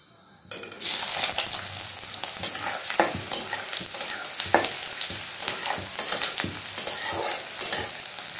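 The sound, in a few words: onions frying in oil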